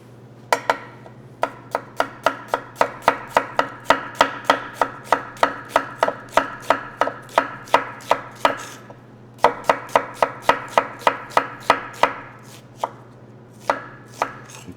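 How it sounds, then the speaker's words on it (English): A knife chops a red onion into thin julienne strips on a cutting board, dozens of crisp, evenly spaced taps in fast rhythmic runs, close and clear, with short pauses between runs. "now what we're going to do is just do a nice little julienne of the onion here"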